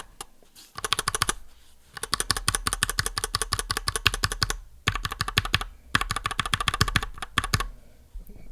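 Mechanical keyboard fitted with Everglide Jade switches and loose-fitting PBT keycaps, typed in fast bursts of crisp, close clacks separated by brief pauses, with no voices.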